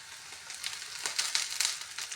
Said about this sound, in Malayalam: ചെറിയ ഉള്ളി ഇട്ട് കൊടുക്കുക.